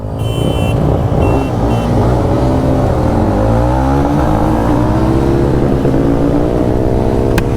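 Hunter 350, Ronin 225 and Jawa 42 motorcycles racing together, loud engines droning continuously up close with rising and shifting revs through the whole stretch.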